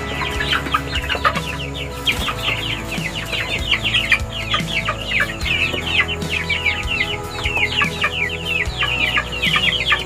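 Free-range village chickens kept on a small farm cluck in a steady, busy chorus, with overlapping calls from several birds close by and a constant low background hum underneath.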